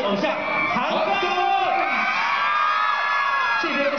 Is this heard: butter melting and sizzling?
no